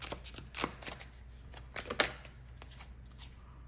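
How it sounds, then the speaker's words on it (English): Heavy tarot cards are shuffled up close, giving a run of soft, uneven riffling snaps and slaps at a quiet level with no talking. "Oh, these cards are quite heavy to shuffle."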